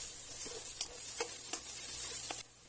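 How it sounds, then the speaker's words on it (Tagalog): Onion and garlic sautéing in a pan, a faint steady sizzle punctuated by a few quick stirring scrapes spaced about half a second apart. "ginisa ko na dito ang sibuyas at ng bawang"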